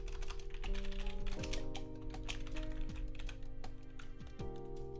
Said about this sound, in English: I'm not being very consistent with my typing tonight